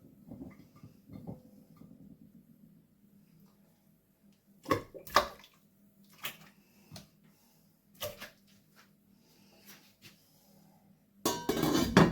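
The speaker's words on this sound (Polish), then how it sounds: "do warnika wrzucę teraz już te kiełbaski" White poultry sausages go into a steam cooker full of hot water: a few separate clinks and knocks, then a louder, brighter splashing clatter at the end, with a low steady hum underneath and no voices.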